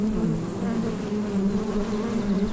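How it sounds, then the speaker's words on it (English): A dense, steady buzz of many honeybees swarming close by, a low droning hum with no other sounds. "right away you can see the busy colony hard at work"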